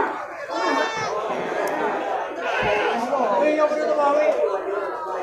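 Billy goats bleat repeatedly at a busy livestock market ahead of the Qurban sacrifice festival, with crowd chatter and speech running throughout.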